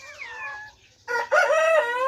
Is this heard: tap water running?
no